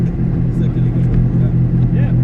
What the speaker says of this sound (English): All right, we're gonna give this a rev, guys.